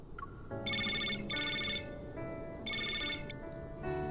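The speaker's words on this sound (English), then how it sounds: "Suddenly the phone rings." A phone ringtone in the video game Love and Deepspace, bright electronic chiming bursts in a repeating melodic pattern over a soft ambient bed, close and clear with no talking.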